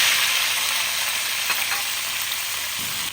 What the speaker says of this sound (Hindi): अब इसमें आलू डाल देंगे।